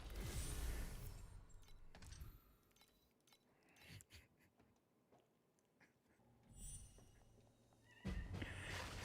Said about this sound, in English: Even my cat's meowing,